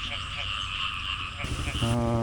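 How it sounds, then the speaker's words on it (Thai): Frogs croak at a morning market in Nong Bok, Khammouane, Laos, in a dense, steady chorus of buzzing, pulsing calls. A faint voice or tonal sound rises near the end. "เสียงกบ"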